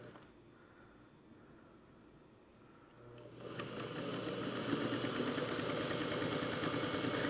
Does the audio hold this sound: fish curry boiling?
no